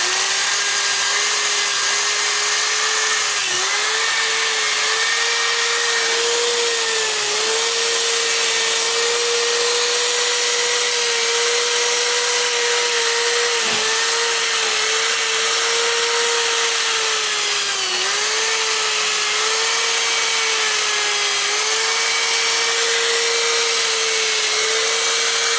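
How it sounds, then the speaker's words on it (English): A disc sander with 80-grit paper grinds the edges of a turned wooden bowl, a loud, steady motor whine with a harsh abrasive hiss that holds unbroken throughout, dipping slightly in pitch as pressure changes. "if you take your sander, your disc, a heavy grit, like an 80 grit, and you go in here,"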